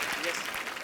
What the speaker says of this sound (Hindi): अच्छा, तालियां।